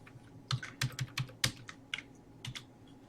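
Keys clatter on a computer keyboard in quick irregular bursts of clicks, close and fairly quiet, with no talk over them.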